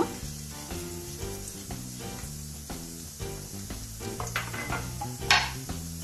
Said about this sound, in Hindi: अब डालेंगे हम जीरा